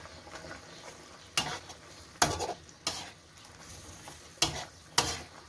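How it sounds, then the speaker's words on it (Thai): Chinese kale being stir-fried in a pan for rad na with marinated pork, a steady low sizzle broken by five or six sharp, loud scraping tosses of the spatula at uneven intervals. "ใส่ผักคะน้าลงไปเลยค่ะ"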